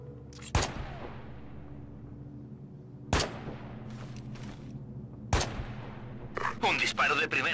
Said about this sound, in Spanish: Un disparo de primera.